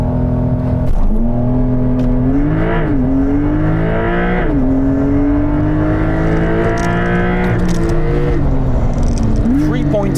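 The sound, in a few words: Porsche 911 Targa 4 GTS launch control acceleration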